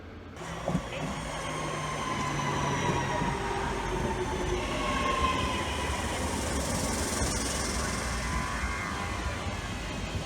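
A train headed to Birmingham rumbles steadily along the rails from inside the carriage, a continuous low roar with a faint hiss and occasional clacks.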